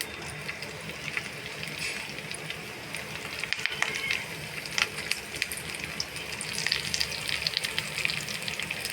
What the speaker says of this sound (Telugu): కరివేపాకు వేయించుకుందాం.